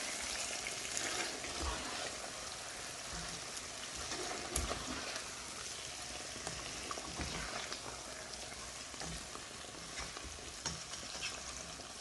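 Potatoes and a handful of coriander leaves are stirred in a curry pan, a steady sizzling fry with soft scraping of the spoon running continuously at moderate volume, no voices.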